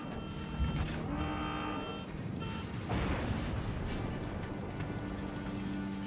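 Heavy naval gun blasts from a tier 1 Erie cruiser in the World of Warships video game, with a sharp boom near the middle over a steady wash of game ambience and background music.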